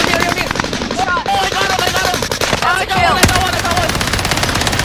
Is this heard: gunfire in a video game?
yes